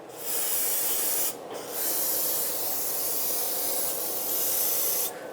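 An aerosol can of brake parts cleaner sprays onto a Mazda 6 wheel hub in two long, loud, close hisses with a short break between them, and no talking.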